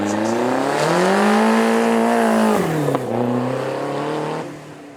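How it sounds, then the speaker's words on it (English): A twin-turbo Lotus-derived 3.5 litre V8 supercar of about 350 horsepower accelerates uphill, a loud close engine roar climbing and holding pitch, then dropping briefly as it shifts before pulling on and fading. "lovely to hear those turbos coming off boosts as it made its way up to the top of the hill"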